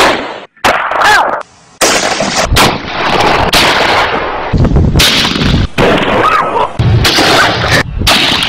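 Loud gunfire bursts out in repeated blasts at close range, with short breaks between shots and a harsh, saturated crack throughout.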